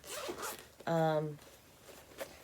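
Zipper on a bag fitted with a dice-shaped pull, one quick close zip rasping for about half a second between quiet stretches of faint background talk.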